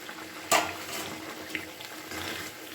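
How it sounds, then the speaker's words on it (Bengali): Fried katla fish pieces dropped into a boiling Bengali fish curry: one sharp splash, then a steady bubbling simmer with small liquid plops. "এবার আমি ভেজে রাখা মাছগুলোকে এর সাথে দিয়ে দিচ্ছি"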